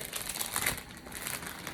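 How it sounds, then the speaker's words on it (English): Crinkling of a plastic bag with a sticky flap, used as packaging for vintage doll clothes, a close, soft continuous rustle lasting under two seconds with no talking. "I love a good plastic bag with the old sticky down flappy bit."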